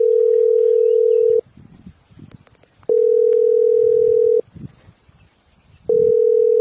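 Ringback tone from a telephone as a call is placed: long steady beeps of about a second and a half, separated by gaps of similar length, loud and close, with faint rustling between them.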